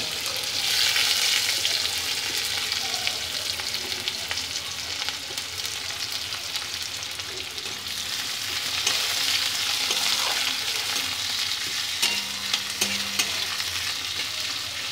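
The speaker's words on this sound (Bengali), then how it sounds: "পেঁয়াজটা ভালো করে ভাজা ভাজা হয়ে যাবে।" Onions and whole garam masala fry in hot oil while being stirred for the Bengali mourola fish jhaal, a steady close sizzle with scraping stirs running throughout and no talking.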